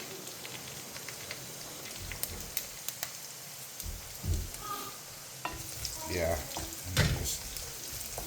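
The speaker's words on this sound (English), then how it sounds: "just let it from simmering to start kind of frying a bit" Sausages sizzle and crackle in a hot pan with occasional spits and pops, while a voice speaks briefly in the background.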